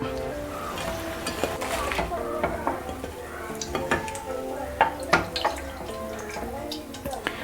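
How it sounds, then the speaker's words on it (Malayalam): Mango pieces fry in hot oil for pickle, giving a steady close sizzle with scattered bubbling pops and a few clinks of a utensil against the pan. "രണ്ടാമത്തേതും വറുത്ത് കോരിയിടുകയാണ്."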